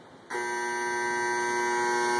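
A dipping tank's timer buzzer sounds after a brief quiet moment, a loud, steady electric drone that holds unbroken to the end.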